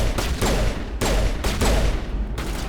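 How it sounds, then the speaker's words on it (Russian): Heavy pistol, a hand cannon, firing in the Mass Effect video game: a few loud, sharp shots spaced roughly half a second apart, each with a booming tail that overlaps the next. "это очень сильно бьющая ручная пушка"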